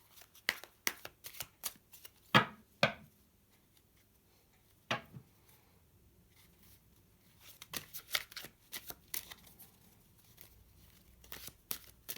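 A deck of tarot and oracle cards being shuffled by hand, with sharp riffling bursts and slaps that come in uneven clusters separated by short quiet gaps, close and fairly loud, with no voice.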